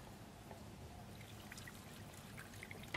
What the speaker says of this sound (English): let me help you to pour the water.